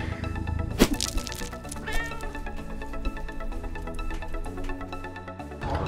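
A cat meows several times at close range, lying on papers indoors, with the calls rising over a soft musical background.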